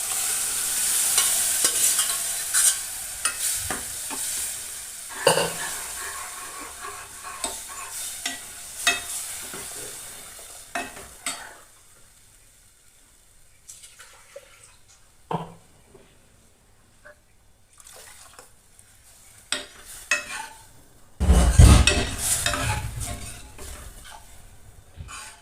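Taro leaf vegetable tipped into a hot pan with turmeric and stirred, giving a close sizzle with scraping spoon strokes in bursts, quieter stretches in between and a loud stir near the end.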